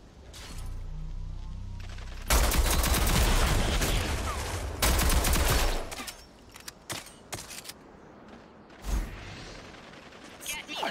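Heavy bursts of gunfire from the video game Rogue Company, with a dense sustained volley of rapid shots followed by a second burst, then scattered single shots and impacts, loud and close.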